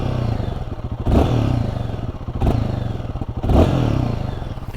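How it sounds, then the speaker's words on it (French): A Royal Enfield Guerilla 450 single-cylinder motorcycle engine runs close by with a steady thumping idle, rising in three short revs spaced about a second apart, with no talk over it. "Très sympa petit son ce monocylindre"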